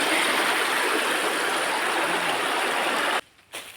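Steady rushing of a stream flowing nearby, broadband and continuous, cutting off abruptly near the end before a brief return.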